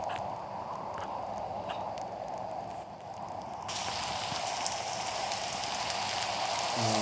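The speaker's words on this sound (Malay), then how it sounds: "Oh, hujan." Steady rain patters and hisses on surfaces, growing heavier partway through and staying loud to the end, with no voices.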